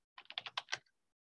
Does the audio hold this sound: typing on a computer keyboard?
yes